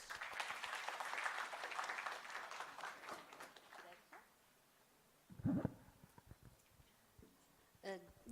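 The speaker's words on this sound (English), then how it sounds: "we must appreciate them with a round of applause." Round of applause from a seated audience at a live literature festival session, steady and fairly distant at first, thinning out into scattered claps and a few louder thumps.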